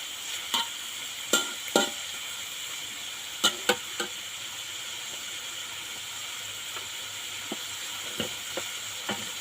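Vegetables and sesame cook in a pan with a steady low sizzle, broken by scattered sharp clicks and taps, close and fairly quiet with no talking.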